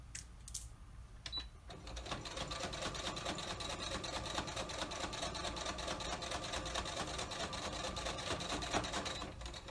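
A sewing machine top stitches a fabric face mask, a steady rapid mechanical whir running continuously close up after a brief start, with no talking.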